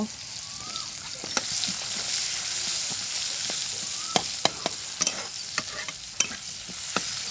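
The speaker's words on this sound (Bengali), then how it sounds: "এই যে আপনার পেঁয়াজ ভাজা একটু ব্রাউন কালার হয়ে যাচ্ছে" Onions fry in a pan with a steady, close sizzle, broken by sharp clinks and scrapes as a utensil stirs them.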